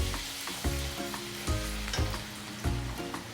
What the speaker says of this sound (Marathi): तेल थोडं गरम झालेलं आहे आता आपण काय करणार आहोत आपण हे आम्ही आलं लसूणची पेस्ट घेतलेली आहे ना ती ह्याच्यामध्ये टाकून घेणार छान असं आपण परतून घेऊ